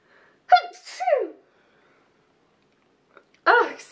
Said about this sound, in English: Oh, if I look, I'm gonna sneeze.